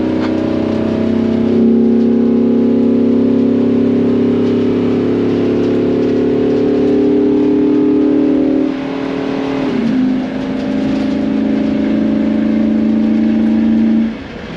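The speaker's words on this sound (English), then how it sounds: "Man, listen to that motor." A 2010 Fleetwood Encounter Class A motorhome's 362 hp V-10 engine pulls hard on the interstate, a loud, close, steady drone that climbs in pitch, dips briefly, then holds high again before easing off.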